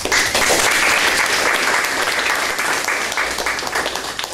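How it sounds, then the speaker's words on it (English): Audience at a university business department presentation giving a round of applause, a steady, dense clapping that stays strong, then tapers slightly toward the end. "can you give them a bit of a round of applause?"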